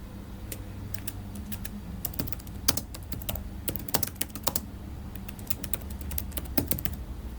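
Fingers type on a computer keyboard while entering chart text in a spreadsheet, producing close, crisp key clicks in irregular quick bursts with brief pauses, and no talking.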